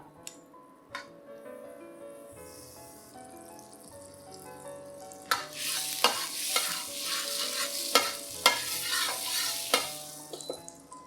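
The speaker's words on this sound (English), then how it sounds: "in a pot, over medium to low heat, melt 1 tablespoon of butter" Butter melting in a pot over medium-low heat, a soft sizzle that swells halfway through, with scattered utensil taps and scrapes against the pot under quiet background music.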